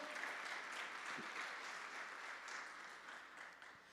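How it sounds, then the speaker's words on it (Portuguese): A church congregation at an evening service claps for the Lord, a soft, fairly distant, sustained applause that rises and falls gently without any speech over it. "Pode aplaudir ao Senhor."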